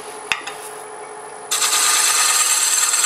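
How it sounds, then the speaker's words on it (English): A negative rake scraper works a wooden piece spinning on a lathe run at reduced speed. A faint motor whine and a couple of light taps give way to a loud, steady, close scraping hiss that continues without a break. "And of course, being a negative rake scraper, I'll slow down the speed a little bit."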